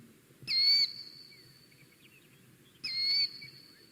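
Small bird near a dam with the Tetons in view, calling in agitation at people nearby: two sharp, high, buzzy calls about two seconds apart, clear over quiet background rumble.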